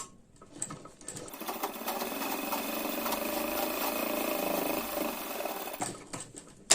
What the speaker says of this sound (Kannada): ಇವಾಗ ಇದು ಸೆಂಟರ್ ಲೈನ್ ಇನ್ನೊಂದು ಹೊಲಿಗೆ ಹಾಕೋಬೇಕು